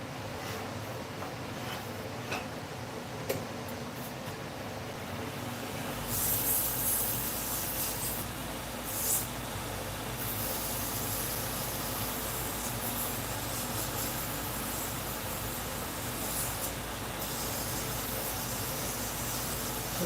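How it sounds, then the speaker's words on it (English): Sandpaper at 240 grit rubbed against a turned keychain spinning on a wood lathe, a steady broadband hiss and scrape over the lathe's hum, growing denser after a few seconds and continuing evenly to the end with no talking. "So I grabbed some clean, clean sandpaper here. Take this 240, start with that."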